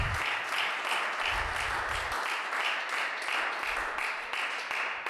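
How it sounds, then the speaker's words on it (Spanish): A church congregation applauds and claps during a Spanish-language service, a dense, continuous wash of many hands clapping at once, loud and sustained for several seconds with no speech over it. "¿Cuánto le damos palmas a Jesús, hermano? Déselo fuerte al Señor, hermano."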